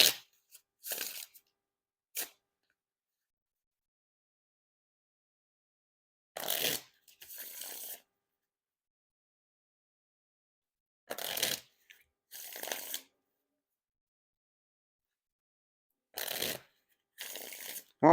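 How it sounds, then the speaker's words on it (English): Dan and Dave playing cards get riffle shuffled and bridged in repeated bursts, each a quick crisp ripple followed by a softer cascade, spaced by long quiet pauses, close and clear. "And now time for the riffle shuffle or bridge shuffle."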